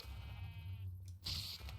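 A sheep in modded Minecraft gives a single clear bleat, fairly close and alone, over a low steady background hum.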